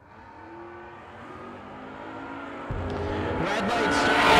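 Drag racing engines from a Chevrolet S10 and a Camaro at a no-box open event, rising from a low idle into a loud, building rev that swells steadily toward the end.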